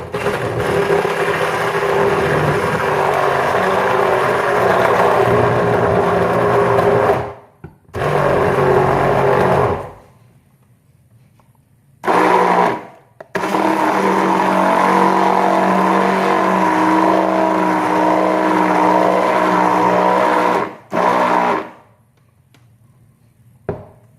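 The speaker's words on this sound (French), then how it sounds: "Donc là, je vais passer au mixeur plongeant." A handheld immersion blender whirs steadily while mixing hot agar-agar mirror glaze, a loud continuous motor drone broken by a few brief stops and restarts.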